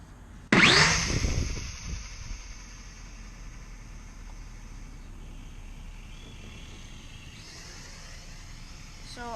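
A cheap toy drone lifts off right beside the camera with a sudden loud burst of buzzing rotors and wind, then settles into a steady high whine that fades as it flies a short distance away.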